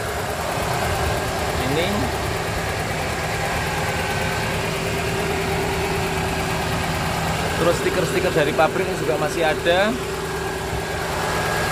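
A 1995 Toyota Starlet 1.3 engine idles smoothly and steadily nearby, a constant low hum running throughout while someone talks over it.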